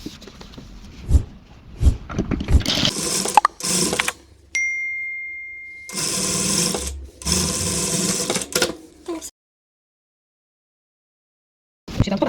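A sewing machine stitches fabric for a child's apron and chef's cap in bursts of rapid mechanical whirring, several runs separated by pauses and small clicks, close and fairly loud, with no talk.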